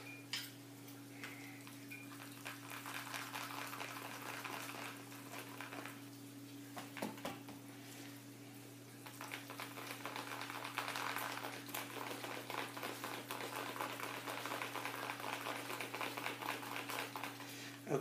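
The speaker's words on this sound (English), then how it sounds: "I think I might try to use my whisk first." A whisk works through thick, warm homemade shaving soap with fragrance oil, making a steady, close clicking and scraping that runs the whole time over a constant low electrical hum, with no talking.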